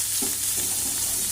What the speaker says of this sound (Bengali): এই যে একটুখানি পেঁয়াজ দিয়ে দিচ্ছি।